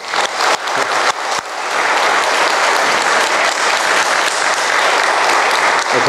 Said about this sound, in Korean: 그래서 우리 신부님들 위해서 박수 한번 좀 크게 좀 쳐줬습니다.